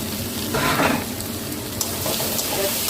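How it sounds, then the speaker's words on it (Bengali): Fried vegetables with onion and green chilli are stirred in a hot pan, giving a continuous close sizzle and frying hiss with scraping stir movements and occasional light clinks. "এবার আনাজগুলো দিয়ে দিলাম, ভাজা আনাজগুলো দিয়ে দিলাম"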